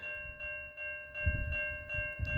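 A slow CN mixed freight train rolls eastbound past a rural crossing at East Townline Road in Newtonville, Ontario, giving a low rumbling drone with pulsing surges under steady tonal hum, fairly close and continuous.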